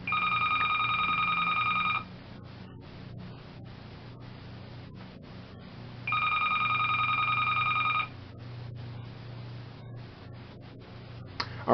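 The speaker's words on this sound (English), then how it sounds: "Sorry about the phone ringing." A telephone rings in two long electronic bursts of about two seconds each, separated by a few seconds of quiet room tone. The ringing is moderately loud and plays with no talk over it.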